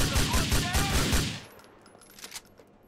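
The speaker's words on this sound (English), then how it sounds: "Shoot that fuck before he kills us all!" Rapid bursts of automatic gunfire from a Grand Theft Auto game, loud and dense for just over a second before cutting off into a quieter tail with a few scattered pops.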